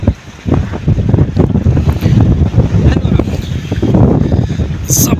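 Strong wind buffets the microphone beside Attabad Lake, giving a loud, steady low roar with gusty swells and some lapping water, continuous for the whole stretch.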